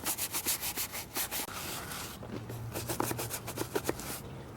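A fine brush scrubs a dirty leather saddle up close, first in quick, rhythmic back-and-forth strokes, then in a steadier rubbing with scattered scratchy bursts.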